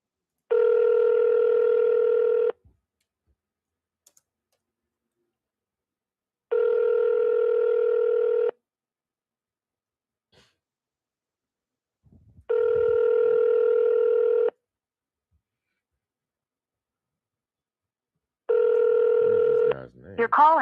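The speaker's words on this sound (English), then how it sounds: "Your call has been forwarded to voicemail." A phone call ringing out before reaching voicemail: four evenly spaced long ringback tones separated by silence, clear and fairly loud, with a brief garbled sound at the very end.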